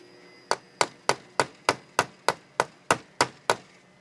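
Hammer blows on a steel anvil while shaping wire for a spiral-bail hoop: eleven crisp, ringing metallic strikes at a steady, slightly quick pace, close and alone with no talk.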